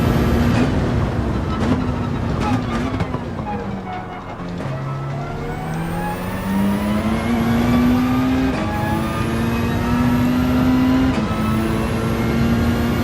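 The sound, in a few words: Peugeot RCZ race car engine, Gran Turismo 7 video game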